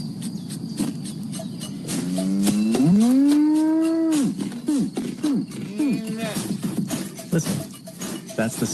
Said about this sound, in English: Listen, that's the sound of your local family-owned dairy farm.